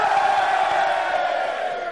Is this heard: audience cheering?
yes